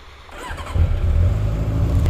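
A stock motorcycle bought at auction, with a rebuilt carburetor, catches and starts up close by, then runs at a loud, rough, steady idle.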